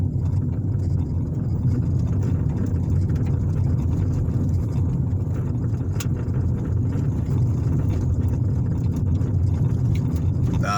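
A car rolls along an unpaved single-lane gravel road near Patricksburg, Indiana, a steady loud rumble of engine and tyres on loose stones with faint crunching clicks, continuous from start to finish.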